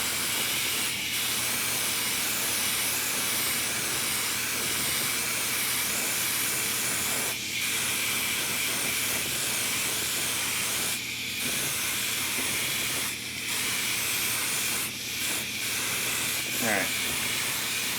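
Sealer sprayed from a can onto a quarter-scale sculpted Spider-Man figure. A steady, close hiss runs throughout, with a few short breaks where the spray stops and starts again.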